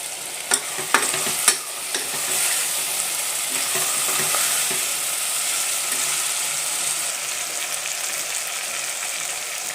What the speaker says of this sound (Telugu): పన్నీరు అలాగే శనగలు కూడా వేసేసి ఫ్రై అయిపోతున్నాయి మొత్తం